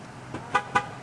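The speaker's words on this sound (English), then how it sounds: "Come on, honk." A car gives two short, sharp honks in quick succession after a faint lead-in, loud and close, with no voices over it.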